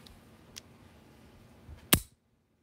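Trigger of an unloaded Hi-Point pistol with no magazine, pulled and reset, giving a single sharp mechanical click after faint quieter ticks, close and alone in near silence.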